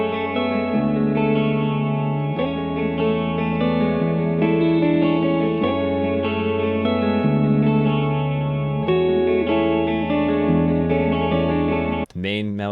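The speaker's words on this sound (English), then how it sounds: "This is totally raw guitar just with an amp sim." Raw electric guitar through an amp simulator plays sustained distorted chords with echo and chorus shimmer, steady and loud, changing about every couple of seconds, ending in a brief pitch-bent swoop.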